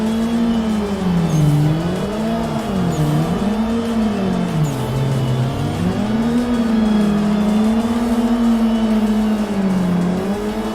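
Drifting car in the Assetto Corsa racing simulator, its engine droning loud and steady throughout with a wavering pitch as revs rise and fall through the slide, joined by faint tire squeal.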